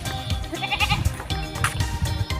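Goats bleat repeatedly, close by, with wavering cries rising over a busy outdoor background.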